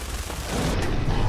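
Gunfire in the video game Fallout 4, a loud dense burst of shots that swells and stays heavy through the second half, with no talk.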